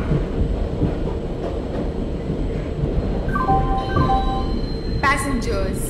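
A passenger express train in Indian Train Simulator rumbles and clatters steadily while arriving at a platform, with a chime-like announcement tone rising near the end over the mechanical noise.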